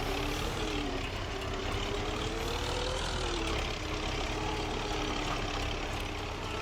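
A tractor engine in Farming Simulator 25 drones steadily as the vehicle drives, a loud, continuous mechanical rumble with a slight pitch wobble and no talk over it.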